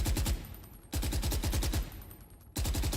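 Suppressed automatic gunfire in the video game Valorant comes in three rapid bursts of muffled, evenly spaced shots, close and fairly loud, with no talk.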